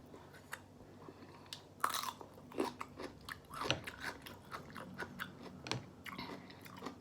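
Someone chews and bites crunchy food close to the mic, eating rice with chili dip, pork cracklings and neem greens, with moist mastication and crisp crunches repeating in an irregular rhythm.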